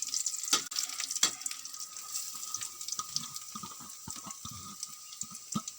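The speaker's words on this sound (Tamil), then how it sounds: "இதுக்கப்புறம் கேரட்டை போட்டு இதில் வதக்கிடலாம்." Carrots being sautéed with browned onions in a pan for carrot rice: a soft, steady sizzle broken by scraping stirs and light clinks, close by, with no one talking.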